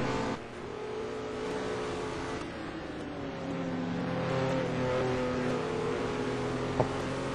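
An STC touring race car accelerates at Anderstorp, a steady loud engine drone rising in pitch as it gains speed, heard from inside or close by throughout.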